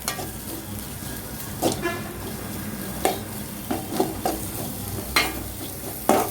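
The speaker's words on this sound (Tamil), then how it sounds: "வெங்காயம் போட்டு இஞ்சி பூண்டு போட்டுக்கலாம்" Chopped onion, ginger and garlic sizzle and fry in a pan for a brinjal masala, a steady hiss broken by repeated sharp scraping stirs of a spoon against the pan.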